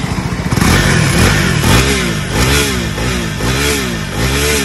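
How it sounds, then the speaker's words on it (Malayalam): A KTM Duke 390 motorcycle's exhaust revs loudly and close up, the engine rising and falling through several throttle blips with rhythmic, swooping pitch and a rough low rumble underneath, no voices. "കാരണം ഇത് പിരിച്ചു കഴിഞ്ഞാൽ അന്ത മുമ്പില്ലാത്ത രീതിയിലാണ് സൈലൻസറിന്റെ സൗണ്ടെന്ന് പറയുന്നത്"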